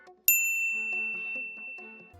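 A notification bell sound effect rings once, a bright, sharp ding with a long shimmering decay, followed by a faint tinkling pattern of soft tones underneath.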